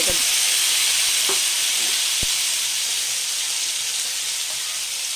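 Ginger, onion and chili paste frying in hot oil in a frying pan for a Rui fish korma, a loud, steady close sizzle and hiss with a few soft knocks of stirring.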